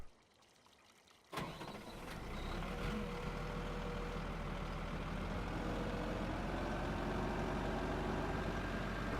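Case tractor engine in Farming Simulator 17: quiet at first, then a sharp start at about a second and a half, settling into a steady loud driving drone with faint whine, no talk.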